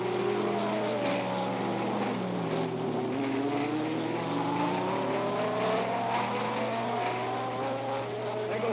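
Jack Brabham's race car at the 1967 Canadian Grand Prix roars along the start-finish straight, its engine note rising and falling in long sweeping pitch changes over a dense, continuous mechanical drone, with no talking.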